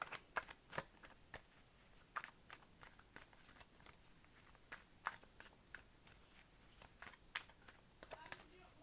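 Tarot cards are shuffled and drawn in quick, papery riffles and flicks, a steady run of crisp bursts with faint talk underneath.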